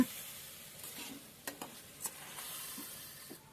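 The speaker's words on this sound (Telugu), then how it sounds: "ఈ చికెను బాగా కలుపుకోవాలండి అల్లం వెల్లుల్లి పేస్ట్ ఆ ముక్కలకు పట్టేలాగా మీరైతే బాగా కలుపుకోండి" Chicken pieces coated in ginger garlic paste are stirred in a frying pan, giving a soft, steady sizzle with a few sharp scrapes and clinks of the spoon against the pan.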